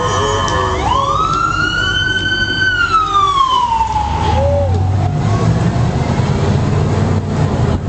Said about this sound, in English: Here comes the police car.